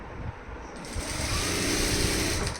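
Sewing machine stitching falls onto a saree, a soft, steady mechanical whir that builds slightly and runs for a couple of seconds at low volume, with no talk.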